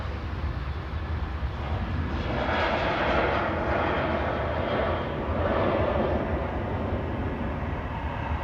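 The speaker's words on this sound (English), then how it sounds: "EasyJet in the background there, I think." An EasyJet airliner at Manchester Airport produces a continuous, broad engine roar that swells and fades slightly over several seconds, heard from a distance with no talking.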